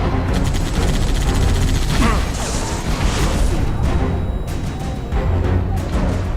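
Gunfire in Halo: Reach, rapid sustained weapon fire with booming impacts and crashes, loud and close, voices shouting over the din.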